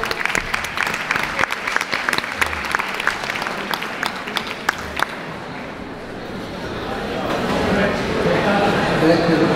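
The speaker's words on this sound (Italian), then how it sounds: "Un applauso." An audience applauds in Milan's Teatro Dal Verme with dense, crisp clapping for about five seconds, then the clapping fades into a rising, murmuring crowd hubbub.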